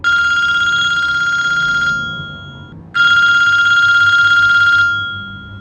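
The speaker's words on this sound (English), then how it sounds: "cell phone started ringing" A phone rings loudly with a bright electronic trill, two long bursts separated by a short pause, alone with no voices.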